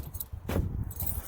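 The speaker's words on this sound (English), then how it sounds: "Get my keys." A bunch of keys jangles briefly in a quick metallic rattle, close and fairly quiet, with faint background noise around it.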